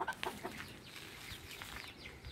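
Chickens cluck softly in a welded mesh hen cage among dense trees, with a few short clucks and faint bird calls over quiet background noise.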